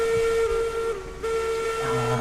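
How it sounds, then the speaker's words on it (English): A steam locomotive whistle sounds in the train game Railroad Online, a long steady tone that holds for the whole stretch with a brief dip partway through, loud and close. "I can actually hear Stu's whistle."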